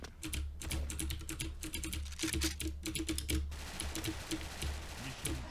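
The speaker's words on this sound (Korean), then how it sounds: "레오폴드 청축 써요." Rapid clacky typing on a Leopold mechanical keyboard with blue switches, fast bursts of crisp keystrokes close to the mic over a low game background hum, with brief pauses between flurries.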